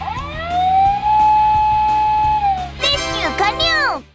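A toy siren wails up and down loudly and close, sweeping pitch, then shifts to a faster yelping pattern near the end.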